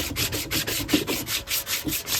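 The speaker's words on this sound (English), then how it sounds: "I might go hit it with a sander right quick to take it down a bit more." A sander works Bondo body filler on a car body repair, giving a steady rough rubbing hiss in repeated back-and-forth strokes, close and fairly loud with no talk.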